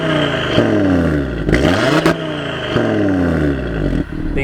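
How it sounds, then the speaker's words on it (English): Audi TT RS fitted with a performance exhaust, revving loudly up and down in several quick bursts, each rise in pitch snapping off sharply, close by with no talk. "you've got to have the performance exhaust."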